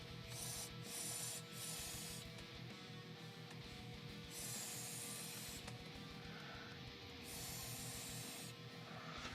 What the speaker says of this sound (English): Let's have a vape.